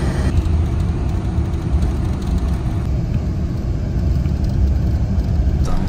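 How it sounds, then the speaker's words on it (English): Luxury Royal Class bus heading down a mountain road from Baguio toward Manila, with a steady close engine drone and road rumble filling the cabin throughout, no voices. "Bus ride back to Manila"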